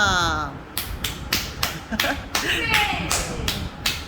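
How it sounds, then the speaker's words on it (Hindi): Hands clap in a steady run of about eight sharp, evenly spaced claps, close and fairly loud, with a voice trailing off at the start. "तो इसके लिए इसको तालियां"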